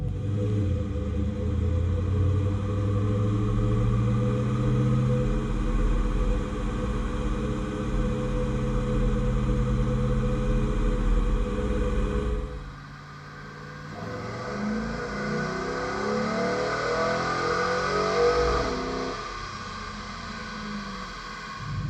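Chevrolet Silverado with a cammed vortecMAX engine running about 10% rich, a deep loud engine rumble that drops and rises again as it revs, heard alone and up close.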